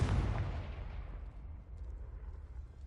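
An explosive Confringo spell in Hogwarts Legacy: a loud blast at the very start that rolls off into a long, low rumbling decay, with no voices.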